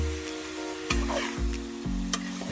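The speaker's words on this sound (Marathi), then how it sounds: "तेलात चांगली अशी मसाला तेल आल्या लसणाची पेस्ट चांगली अशी परतून घेऊया" Ginger-garlic paste sautéing in hot oil for a fish masala, with a steady close sizzle broken by a few sharp scrapes of a spatula stirring the pan, and no voices.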